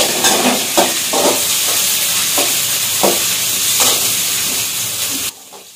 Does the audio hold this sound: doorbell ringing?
no